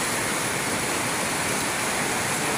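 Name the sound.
swollen river rushing behind house during super typhoon Carina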